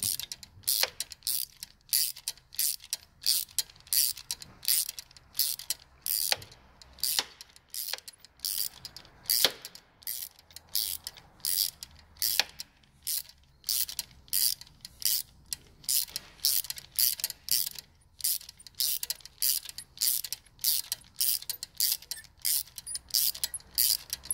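A wrench ratchets as glow plugs are tightened on a Dacia Logan, giving a long run of sharp metallic clicks in an irregular rhythm, close and fairly loud with no talk.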